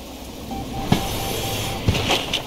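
A locomotive in the Derail Valley train simulator rumbles steadily while reversing, with a low mechanical hum, a faint tonal whine and a couple of sharp clanks of couplings or wheels.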